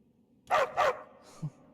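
A dog in the video game Skyrim gives two quick, close barks followed by a fainter yip and a short low whimper, with no speech.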